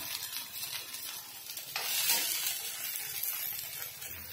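Okra sizzling and frying in a pan while being stirred, a steady bright crackle with a scraping swell near the middle, close and continuous with no talk.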